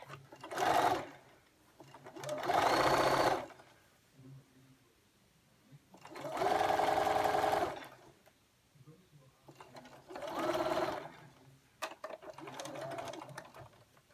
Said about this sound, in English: So I'm gonna sew over this area here to close the big opening.